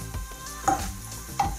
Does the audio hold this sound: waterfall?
no